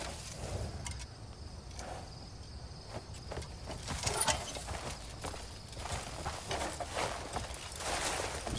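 Horse hooves walking in the video game Crimson Desert, a soft, uneven clip-clop of steps over low ambient game sound with faint insect-like chirring, moderately quiet and continuous.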